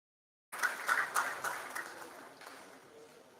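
An audience breaks into applause for a guest lecturer at a public anniversary lecture, a burst of clapping that starts suddenly, peaks early and gradually fades over a few seconds.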